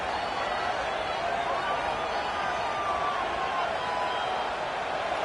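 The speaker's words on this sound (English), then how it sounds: "This crowd rising up, sensing that its defense needs some help." A stadium crowd in the college football game NCAA 26 keeps up a steady, loud roar, a broad wash of cheering voices that swells slightly but holds continuously throughout.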